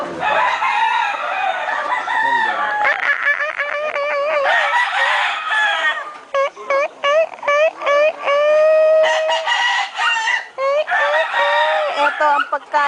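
Chickens cluck and crow loudly and close by, overlapping calls, with a rooster's drawn-out crow in the middle of the racket.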